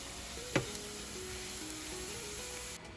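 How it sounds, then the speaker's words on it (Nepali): Ginger, garlic and chillies frying in oil at medium heat, a faint steady sizzle with a brief clink of a utensil early on, no speech. "अब खुर्सानीलाई पनि यसरी नै तेलमा राखेर फ्राई गर्ने"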